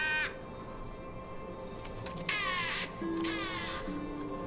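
Crows caw in a Doctor Who episode, two harsh, rasping calls in quick succession over a low ambient bed, fairly close and clear with no talk.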